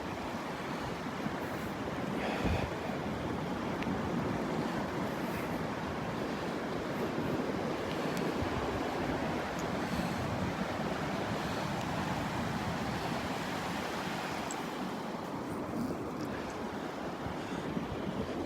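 Steady wash of ocean surf rolling onto a Gulf beach at Delnor-Wiggins, continuous and fairly loud, with wind buffeting the microphone throughout.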